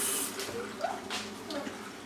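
Tap water runs through the cavity of a turkey being prepared for roasting, a soft uneven trickle and splash with faint gurgles, fairly quiet and close.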